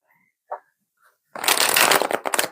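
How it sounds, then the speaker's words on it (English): A deck of tarot cards being shuffled close up: a few soft isolated taps, then a dense, loud riffling burst that runs for about a second and tapers into a few final flicks. "Ooh, okay, that was a good shuffle."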